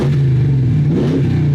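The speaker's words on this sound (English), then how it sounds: "How good does that sound? The Ram 1500 pickup truck. The V8 Bad Boy" A Ram 1500 pickup truck with a V8 engine revs loudly and steadily up close, its deep throbbing note rising briefly before settling back, with no talking.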